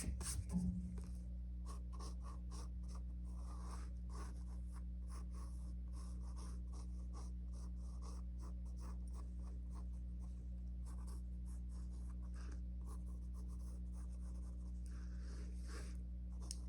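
Lines of a holiday art class drawing are erased with a steady run of soft, close scrubbing strokes, faint and rhythmic, over a low constant hum, with no talking.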